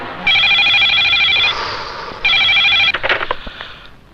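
An office telephone rings in two long electronic bursts with a pause between, loud and close, followed by handling clatter as it is picked up.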